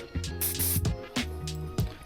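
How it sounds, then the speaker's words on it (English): Short hissing bursts of scent-blocking nose jammer spray being applied all over hunting gear before a rainy deer hunt, several quick close sprays in an uneven rhythm over a low background hum. "Another thing we're using is this nose jammer, spraying it all over."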